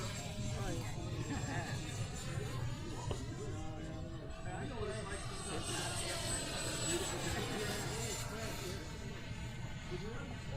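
An RC model airplane fitted with AS3X+ stabilization flies at Fritz Field, its steady, moderately distant motor drone holding with a faint airy hiss and slight shifts in pitch, while a voice talks.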